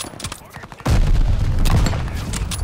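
Gunfire in the video game Call of Duty: Vanguard: after a quieter opening, a loud, sustained burst of rapid shots erupts and keeps going to the end.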